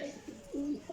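A brief low coo from a Chini pigeon, a single soft rolling call lasting under a second, close and on its own.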